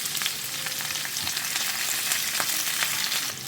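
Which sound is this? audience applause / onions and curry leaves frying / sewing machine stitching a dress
onions and curry leaves frying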